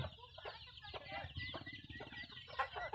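Chickens cluck and call on a rural farm, a near, busy stream of overlapping clucks and squawks with a low rumble underneath.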